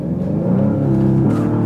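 A 2020 Audi S3 in dynamic mode launching hard from a stop in a 0-60 test, its engine droning loud and close from inside the cabin as revs climb steadily.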